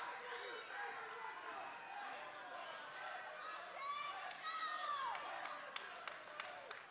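A small wrestling crowd in Thomaston, Georgia cheers and claps, with scattered shouts and whistles over a steady murmur that swells midway, under a commentator's voice.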